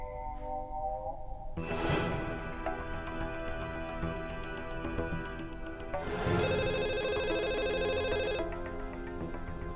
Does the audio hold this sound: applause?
no